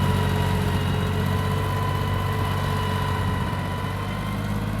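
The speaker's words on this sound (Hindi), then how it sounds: "ओह साथ ट्रैक्टर छोटा है।" A small tractor engine idles steadily at a new house-building plot, a continuous low diesel drone with a constant hum and no talk over it.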